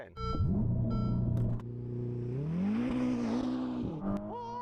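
Sports car launching hard off the line at a drag race start, a loud low engine roar whose pitch climbs steadily as it accelerates, steady and close.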